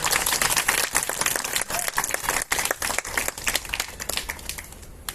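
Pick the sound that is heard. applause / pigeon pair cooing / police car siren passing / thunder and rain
applause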